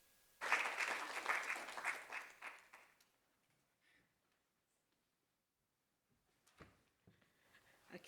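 Audience applause at a corporate presentation event bursts out at once and fills about two and a half seconds, then thins to a few scattered claps and quiet, with a couple of late isolated claps near the end.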